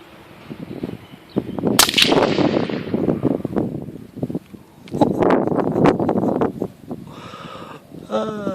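Firebird Sniper 65 exploding targets are shot outdoors, giving loud sharp cracks and booming blasts with rumbling tails amid wind noise.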